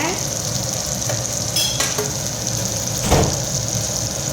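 Tomatoes hit hot oil with fried onions and garlic in a pan for okra kara kuzhambu, a steady loud sizzle broken by a few scraping stirs and clinks of a spoon.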